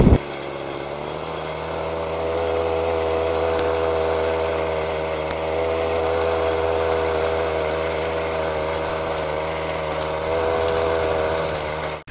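A homemade mini bike powered by a brush cutter engine runs steadily for about twelve seconds, a close, constant buzzing drone with an even, unchanging pitch and no voices.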